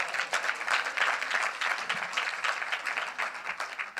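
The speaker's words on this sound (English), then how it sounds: "You can clap hands." Audience applause at a Women and Youth in Construction Summit hosted by a provincial government: steady, dense hand clapping from a seated crowd fills all four seconds without pause and without speech.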